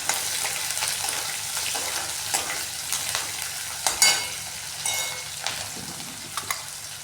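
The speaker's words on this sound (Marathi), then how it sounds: "आपण शेंगदाणे चांगले तळून घ्यायचे आहे. त्यात मिरच्या टाकायच्या आहे आणि मिरच्या चांगल्या परतून घ्यायच्या आहे." Peanuts and green chillies fry in hot oil with a steady, close sizzle, broken by scattered crackles and pops and a few sharper spatters, and no one speaks.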